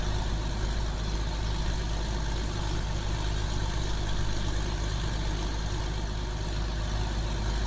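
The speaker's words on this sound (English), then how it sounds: "Ooh, I like the idle of the gleaner." A Gleaner combine in Farming Simulator 2017 idles with a steady, deep engine rumble that holds even and unbroken throughout.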